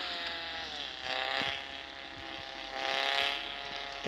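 Car engine in the Car Parking video game, a steady droning motor tone that rises and falls in pitch with two clear swells of revving, moderately loud with no talk over it.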